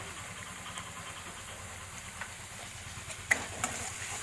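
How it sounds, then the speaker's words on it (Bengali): A low, steady sizzle of spices frying in a pan with salt and turmeric, for a boal fish curry, faint and continuous, with a couple of soft clicks near the end. "দেখো মশলাটা একটু ভাজা ভাজা হলে তারপর আমি স্লাইট একটু জল দেব"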